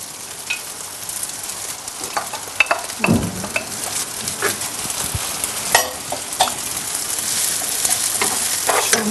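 Parsley stirred into a sizzling pan of food while cooking Bitlis-style şemşemok, with steady frying crackle throughout and a few clear utensil scrapes and knocks against the pan, close up with no talking.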